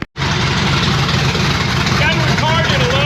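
Diesel-like engine of a chassis-swapped International Loadstar truck idling a little high, a steady close rumble that runs throughout, with a voice speaking over it toward the end.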